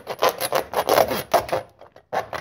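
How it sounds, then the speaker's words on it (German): A handsaw cutting through the rib cage of a roe deer carcass during butchering, with a rhythmic series of rasping back-and-forth strokes, loud and close, briefly pausing before one more stroke, without talking. "wir führen jetzt praktisch unsere Säge in diesem Bereich weiter durch"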